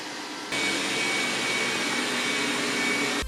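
A Dreame Bot D10s Plus robot vacuum runs steadily with a loud, even broadband whir that starts abruptly after a brief quieter moment and holds constant with no speech.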